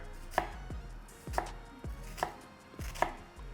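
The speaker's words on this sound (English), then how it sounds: "whenever you cut your onion, come down here." A knife chopping an onion on a cutting board: four crisp, close thuds at a slow, even pace, with quiet gaps between them and no talking.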